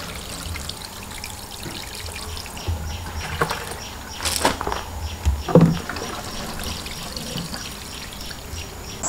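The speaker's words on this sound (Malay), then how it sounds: "barulah kita tambahkan air secukupnya" Water trickles and pours steadily into a seedling tray, a soft continuous splashing with a few louder drips and knocks partway through.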